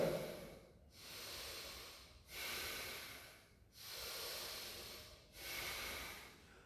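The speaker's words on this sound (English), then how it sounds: "Breathe deep" Deep yoga breathing: four slow, close breath cycles, each a long airy rush with brief quiet gaps between, steady and unhurried with no talking.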